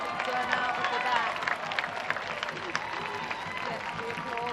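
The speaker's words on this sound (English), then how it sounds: "Get the applause from the home fans around us" Home fans applauding at a Charleston Battery versus Atlanta United 2 soccer match, a steady spread of clapping from the stands around, moderately distant, with a commentator talking over it.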